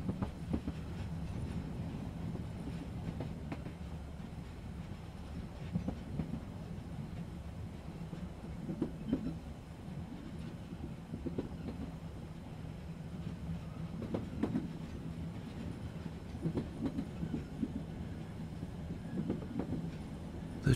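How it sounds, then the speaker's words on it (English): A train rolls steadily along the rails, a continuous rumble with faint rhythmic clicks of wheels over joints, no voices. "The train climbs slowly, curving up around the slope of the mountain."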